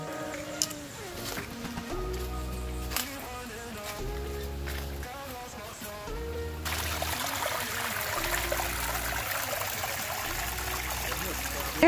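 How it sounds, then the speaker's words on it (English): Small waterfall at a natural spring on Bath Beach, Barbados, with steady running water and trickling that swells after the midpoint, heard under prominent music with a strong bass line. "Here we are at one of the most beautiful natural springs and a little bit of waterfall here in Barbados at Bath Beach."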